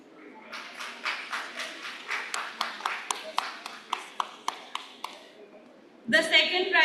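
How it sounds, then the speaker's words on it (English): A small audience at a biomedical sciences conference gives sparse, rhythmic claps for quiz prize winners, a dozen or so distinct claps fading out before a voice speaks over a microphone. "A huge round of applause."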